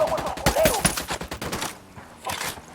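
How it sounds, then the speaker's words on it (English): Rapid automatic gunfire in the video game Ghost Recon Wildlands, dense bursts of loud close shots for about two seconds, then a pause and another short burst. "I'm shooting these fuckers."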